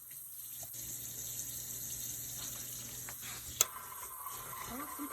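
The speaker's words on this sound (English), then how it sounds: "I'm going to put a little water in here" Warm water is poured in a steady, continuous stream into a mixing bowl while making pound cake and homemade rolls, with a brief clink partway through.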